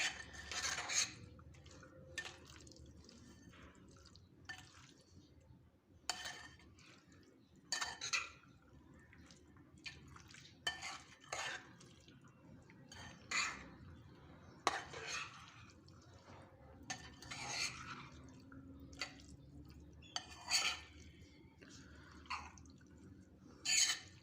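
A spoon stirs corn and bean salad with mayonnaise and lemon in a bowl, giving repeated clinks and scrapes against the dish with soft wet mixing sounds between them, close and steady, with no talk.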